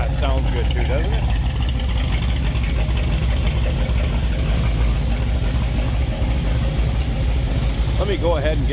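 A 1934 Ford Cabriolet street rod idles close by with a loud, steady, throbbing low rumble throughout, while someone talks over it.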